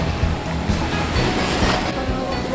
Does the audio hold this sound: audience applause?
no